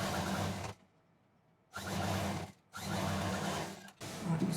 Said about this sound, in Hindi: एक तरफ इस तरह से सिल देंगे,